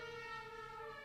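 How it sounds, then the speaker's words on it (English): A fire engine siren wails faintly outside, a steady layered tone heard at a distance with no other sound over it. "That was a siren."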